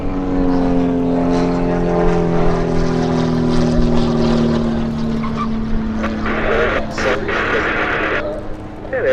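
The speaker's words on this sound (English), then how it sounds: "Just watching all these Homebuilts out here flying around." A homebuilt Van's RV-8A propeller plane passes overhead at an airshow, a loud droning engine tone that slowly falls in pitch as it goes by, with people talking over it later.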